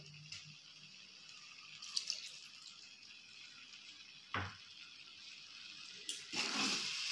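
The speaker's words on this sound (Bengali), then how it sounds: "এবার এর মধ্যে এক বাটি জল দিয়ে" Water from a bowl is poured into a cooking pan of soya keema. Faint, brief splashing and trickling comes in a few soft bursts with quiet gaps between them.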